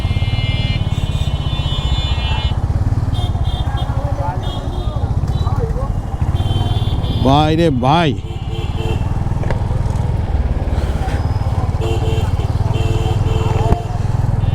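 A Royal Enfield Hunter 350 with a small 350cc single-cylinder engine and short silencer thumps steadily while riding through jammed Dhaka traffic, with a horn blaring midway and a rider speaking over the engine.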